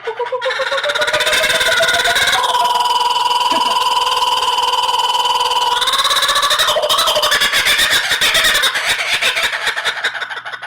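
A large bird squeals and calls loudly and continuously up close, its harsh honking tone shifting pitch, then breaking into rapid, rattling pulses.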